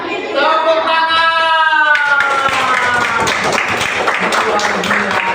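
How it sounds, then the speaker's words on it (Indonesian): A classroom of students claps hands together in a loud, dense burst of applause that continues steadily, with shouting voices mixed in at the start. "Tepuk tangan."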